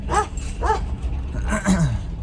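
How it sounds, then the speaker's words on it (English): A dog barks and yips indoors, several short sharp barks in quick bursts with a whimpering edge, close and fairly loud. "the dog was barking right there"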